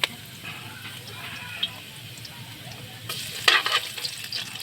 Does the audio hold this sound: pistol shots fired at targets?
no